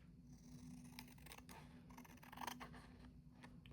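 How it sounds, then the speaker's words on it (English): Scissors snip and trim excess paper from an index card with a few soft, quiet cuts over a low background hum, close but faint. "Trim off the excess."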